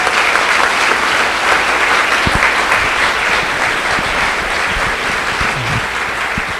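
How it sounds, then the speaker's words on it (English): Steady, full applause from a forum audience honoring the host committee, many hands clapping evenly at close range for several seconds with no talk over it. "so let's please give them a round of applause"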